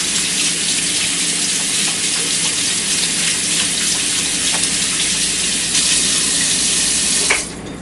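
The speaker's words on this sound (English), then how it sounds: "Give my hands a quick wash." Hands being rinsed under a running kitchen tap: a loud, steady rush of water splashing over the hands, continuing for several seconds before the flow stops abruptly near the end.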